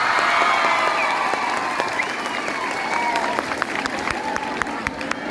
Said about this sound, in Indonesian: Sekali lagi, tepuk tangannya buat Mbak Friska